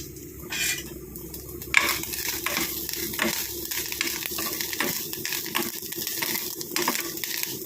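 Curry leaves dropped into a pan of Kerala-style pumpkin and green gram erissery sizzle and crackle, with scattered sharp pops and stirring scrapes over a continuous frying hiss and no talk.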